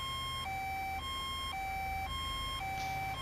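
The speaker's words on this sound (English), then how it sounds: "I'm not sure if these are legit sirens for Victoria." Alternating two-tone Victorian emergency siren from the GTA 5 LSPDFR game, wailing steadily and loudly with a regular high-low cycle of about half a second per tone, with a faint engine rumble underneath.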